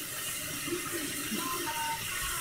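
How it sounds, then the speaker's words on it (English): Hot tap water runs steadily into a kitchen sink or measuring cup during dinner prep, a continuous close hiss and splash with no break or speech. "Just using hot tap water."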